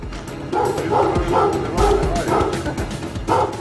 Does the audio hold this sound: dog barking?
yes